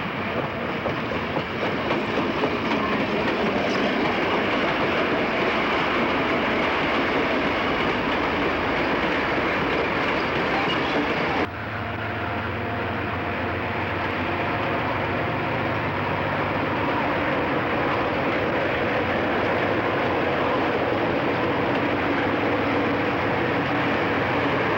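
Conrail GP40 diesel locomotive 3105, a former Penn Central unit, rumbles past at close range with steady loud engine roar and rail noise, the sound shifting abruptly to a lower, rolling clatter of cars about midway.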